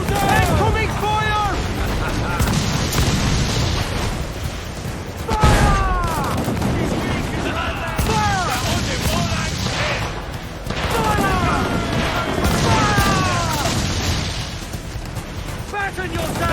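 Cannon fire and explosions boom repeatedly in a naval battle in Assassin's Creed IV Black Flag, heavy blasts rolling one after another beneath shouted voices throughout.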